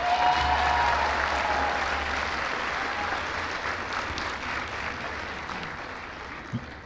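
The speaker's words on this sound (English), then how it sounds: "a round of applause for them as well" Sustained applause from a crowd at a college commencement ceremony, steady and fairly loud at first, then gradually thinning and fading toward the end.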